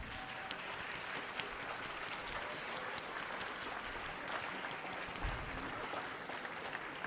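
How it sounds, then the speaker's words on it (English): Applause fills the room at a Millennium Stage concert by an Ecuadorian cultural group as the final song ends, with dense, steady clapping from a sizable audience that stays even throughout and has no talk over it. "Let's give them another round of applause."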